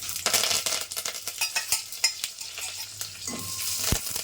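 Mustard seeds, cumin, dried red chillies, garlic and curry leaves frying in hot oil for a tempering, sharp close crackles and pops with spoon scrapes against the pan, no talking.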